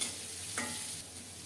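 Chopped onion falls into hot oil already frying garlic and green chili in a pan, with a sharp sizzle as it lands and a close, steady frying hiss afterward, with no talk.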